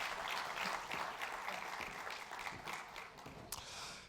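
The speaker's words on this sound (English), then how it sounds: "Ladies and gentlemen, a round of applause for our guest speaker, Scott and Pablo." A conference audience at a business session gives a steady round of applause, heard fairly distant and soft, with dense clapping holding evenly throughout.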